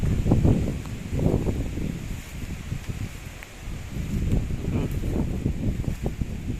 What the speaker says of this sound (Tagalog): Grabe ang, ang lakas ng hangin